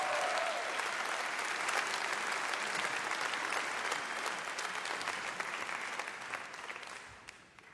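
An audience at a live radio concert applauds a performer with dense, sustained clapping that thins and fades away over the final second or two.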